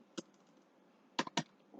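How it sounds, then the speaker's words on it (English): Keys clicking on a computer keyboard as text is typed, heard as a single tap, a brief quiet stretch, then a quick cluster of three or four close keystrokes and another starting at the end. "Let us click here and let us type a text."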